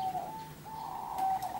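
Zebra dove (perkutut) cooing in a breeding setting, a few soft, clear, tonal coos in quick succession, near and moderately loud, with no talk.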